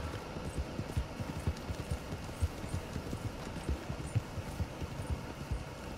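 Horse hooves clip-clop in a steady, even trotting rhythm in Red Dead Redemption II, the soft regular beats carrying on throughout at a modest volume with no talk over them.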